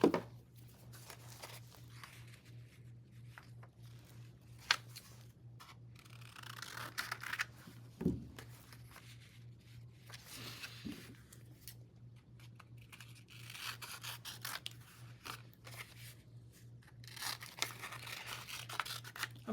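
Scissors trimming paper for a junk journal, faint close snips and soft paper rustling scattered irregularly over a steady low hum, with no voices.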